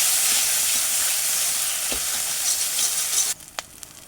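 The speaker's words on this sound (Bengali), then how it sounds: "হলুদটা দিয়ে এটা একটু নেড়ে নেব" Turmeric being stirred into hot spices in a pan for a cauliflower and fish curry, giving a steady loud sizzle with a few scraping strokes, then cutting off to a quiet background with a couple of clinks.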